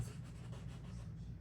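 Pencil or similar drawing tool scratching on paper during a self portrait sketch, a faint, close scraping with quick repeated strokes over a quiet background.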